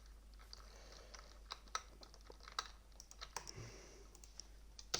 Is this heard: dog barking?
no